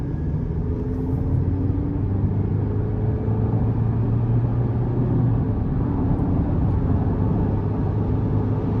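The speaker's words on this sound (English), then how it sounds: "We'll give it just a little throttle here." Steady low drone of a 2023 Chevy Colorado LT's 2.7-liter turbo four-cylinder under light throttle, heard from inside the cab as a continuous even rumble with road noise and no talking.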